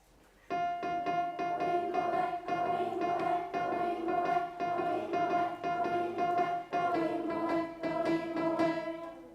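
A lone voice sings a simple sustained alto harmony line, holding mostly one pitch with rhythmic syllables, near and clear, unaccompanied.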